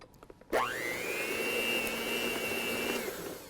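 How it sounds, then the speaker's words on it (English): A close electric hand mixer starts abruptly and whirs steadily at a constant pitch while beating gorgonzola and cream cheese, running alone for about two and a half seconds before slowing. "we're going to mix it with a mixer, so it's going to get a little loud"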